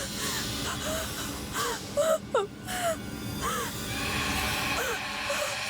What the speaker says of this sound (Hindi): ये रोने की आवाज?